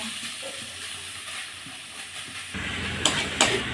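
A banana flower and prawn curry stirred in a pan as its liquid cooks down: a soft continuous sizzle, then a brighter hiss with a couple of sharp scraping clicks near the end.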